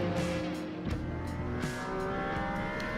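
A Ferrari Challenge race car laps Circuit of the Americas during qualifying, its engine loud and close with a high sustained whine, rapid gear shifts and rising and falling revs over a continuous droning roar.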